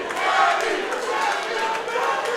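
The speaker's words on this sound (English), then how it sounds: "crowd is just going crazy" A boxing event crowd roars and cheers loudly and continuously, a dense wall of voices close around the ring.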